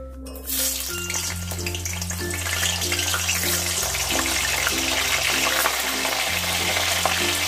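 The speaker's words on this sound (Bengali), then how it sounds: "ফুলকপিগুলো ভাজার জন্য আমি কড়াইতে তেল দিয়ে দেবো" Oil sizzles steadily as cauliflower fries in white oil in a wok, the crackling hiss running under a looping tune of background music.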